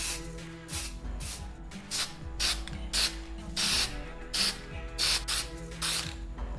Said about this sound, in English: So let's take some different colors of spray paint and see if we can fix it.